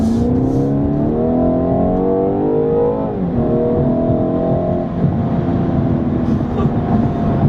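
A 2017 BMW 230i coupe engine accelerating hard, its loud steady drone climbing in pitch, briefly dipping at a gear change partway through, then rising again to the end.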